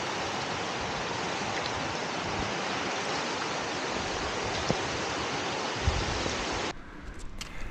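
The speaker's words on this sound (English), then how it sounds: "this creek we've been following and crossing came from Baboon Lake." A mountain creek fed by Baboon Lake rushes in a steady, loud, broadband wash that continues unbroken, then drops off abruptly near the end.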